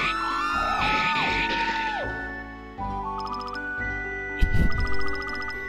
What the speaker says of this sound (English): Oh, he can scream.